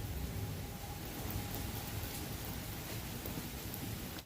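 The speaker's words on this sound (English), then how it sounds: "it is pouring" Heavy rain pours down steadily outdoors in a dense, unbroken hiss with no talking.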